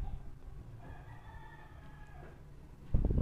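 A rooster crows once in a long, drawn-out call at moderate distance, over a steady background hum, followed by a louder rustling burst at the end.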